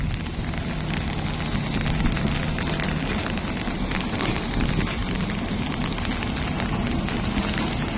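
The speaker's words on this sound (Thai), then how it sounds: "ดีนะฝนไม่ตกแรงครับ" Light rain falls steadily at a busy site crowded with vehicles, a continuous soft patter and hiss with no voices.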